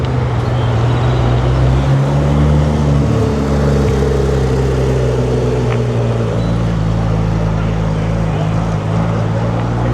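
A Porsche 911 sports car engine drones loud and close, holding a steady, rumbling low tone for the whole stretch with no clear pauses.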